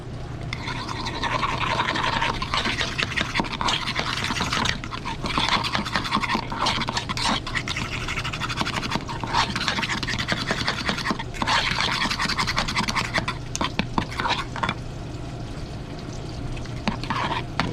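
A sriracha-spiked sauce for fried walleye is stirred in a bowl, giving repeated quick scraping and swishing strokes that run steadily for a long stretch, close and fairly loud.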